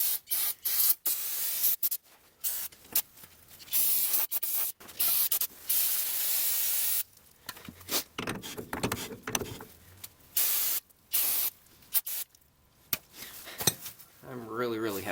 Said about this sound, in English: Spray everything down with brake clean.